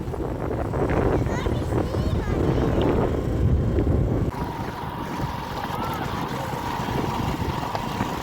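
Strong wind gusts outdoors at a farm, buffeting the microphone with a broad roar that eases slightly partway through, heard under a person talking.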